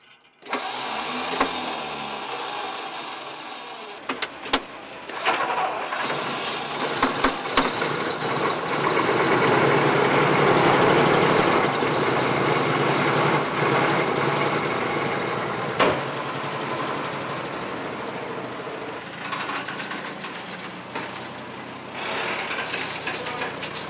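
A 9.3-ton Diamond T M3 halftrack cranks over and its engine catches, rising to a loud, steady rumbling idle that runs on with brief mechanical clatter and no speech.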